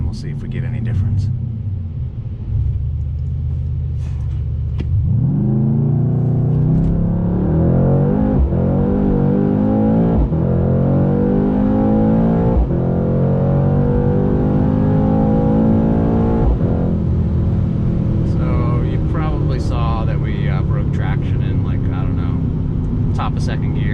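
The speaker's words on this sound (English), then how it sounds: "We'll do one more launch, I think." A 2021 Mercedes-AMG C63 S coupe launches hard from a standstill in race mode, its engine climbing through a loud, rising roar with gear changes, close and dominant for most of the stretch, with a voice briefly over the end.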